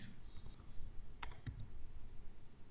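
Typing an amount into accounting software on a computer keyboard, a short burst of several quick clicking keystrokes near the middle over a low room hum, close and fairly quiet, with no talking.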